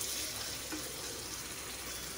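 Water poured from a tap or jug into thawed frozen minced beef in a cooking pan, a steady rushing, splashing pour heard close and continuous with no talking.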